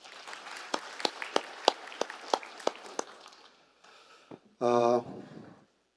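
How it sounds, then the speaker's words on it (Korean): A small conference audience gives a short round of sparse, distinct claps that thin out after about three seconds, followed by a quiet pause and a brief voice. "다시 한번 큰 박수 부탁드리겠습니다"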